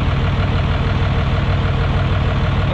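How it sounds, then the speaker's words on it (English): A pickup truck with a swapped 12-valve diesel engine idles loudly through its exhaust, a steady, close, deep rumble that never lets up. "Sorry about the exhaust, a little loud."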